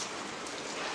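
Steady rain falling on a surface, a dense continuous hiss of raindrops at even loudness with no voices throughout.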